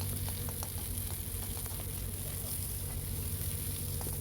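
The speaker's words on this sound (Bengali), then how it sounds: "পেঁয়াজগুলো ভেজে নেব" Onions frying in a pan with oil, making a steady, close, continuous sizzle with faint scattered crackles and a low hum underneath, no talking.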